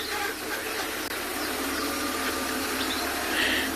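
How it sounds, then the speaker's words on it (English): Safari vehicles on a sunset game drive at Tswalu, moving in the background as a steady, faint engine rumble under broad outdoor hiss, with no speech. "you can hear the vehicles moving in the background"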